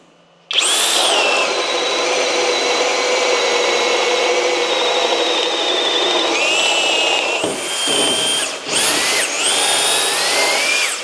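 Flex right angle drill boring into wood with an auto feed pilot bit, a loud close whine that starts abruptly, holds steady, then dips briefly twice near the end as the bit pushes through.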